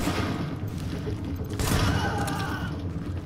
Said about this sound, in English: This shotgun's better than most, so it actually kills with 1 hit